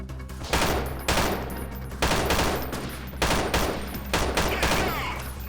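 Gunfire rattles through a firefight in the video game Freeman Guerrilla Warfare, with loud bursts repeating roughly every second, close and dense, without pause between volleys.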